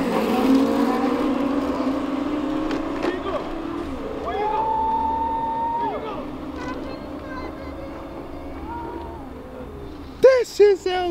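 Car engine revving hard and rising in pitch, likened to a McLaren, with a steady drone through most of the stretch and a few sharp bursts near the end; people talk over it.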